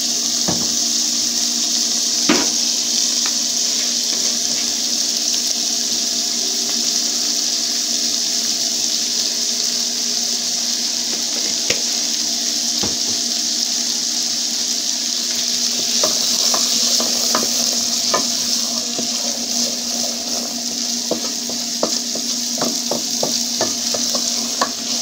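Peas cooking in a pan with carrots give a steady, continuous sizzle and frying hiss, with scattered scraping clicks of stirring growing busier toward the end, with no talk.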